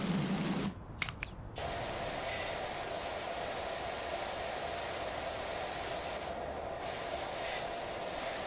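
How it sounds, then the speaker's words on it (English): A pressure washer hose in the video game Power Wash Simulator sprays with a steady, close, broadband hiss that runs almost the whole time, broken only by a short sputtering gap near the start. "We're still doing it with the hose at the moment."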